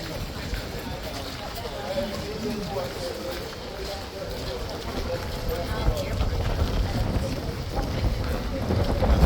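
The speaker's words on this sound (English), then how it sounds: "Very windy this morning." Strong morning wind buffets the microphone with a steady low roar that builds toward the end, with faint activity of the King's Guard and horses in the background.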